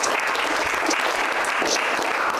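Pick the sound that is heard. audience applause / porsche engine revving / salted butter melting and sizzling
audience applause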